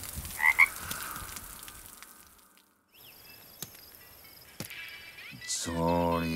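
A frog croaks a couple of times near the start over faint night ambience, followed by quiet, scattered clicks and a rising tonal sound at the end.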